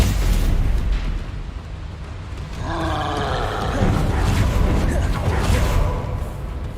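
Spell blasts from Confringo and Bombarda in the Hogwarts Legacy video game, a dense continuous roar of booming explosions and crackling bursts layered over one another throughout, loud and close.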